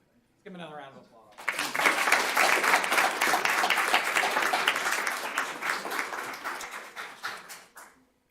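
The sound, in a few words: audience applauding student at board meeting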